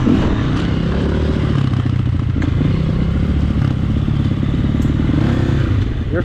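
A dirt bike engine roars loud and close at an off-road park in Georgia, holding a steady throttle with a gritty, rattling drone and clattering undertones throughout.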